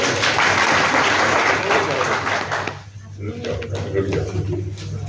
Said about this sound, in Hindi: हाँ चलो एक ताली बजा दो इसके लिए